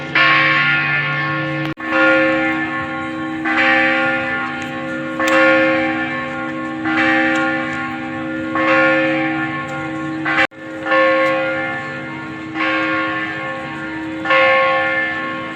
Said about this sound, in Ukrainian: дзвони б'ють.